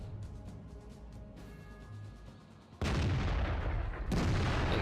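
Tank cannon fire striking an IS-6 heavy tank in World of Tanks: a quieter stretch of distant rumble, then two loud, abrupt blasts about a second apart that fill the scene with heavy roaring noise.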